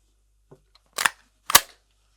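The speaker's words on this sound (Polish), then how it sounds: "Dobra, zobaczmy jak to strzela." An Akdaş SA9 pistol-caliber carbine fires two sharp, loud shots about half a second apart, preceded by faint mechanical clicks, with no talking.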